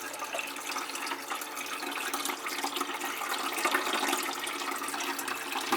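Water rushes steadily through the overflow of a newly filled 40-gallon reef aquarium and down into the sump filter cups, a continuous close splashing, gurgling wash with no pauses.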